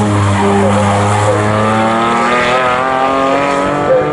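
Morgan race cars in a Morgan Challenge race at Snetterton, engines roaring loudly with rising and falling pitch as several cars pass close, tires briefly squealing.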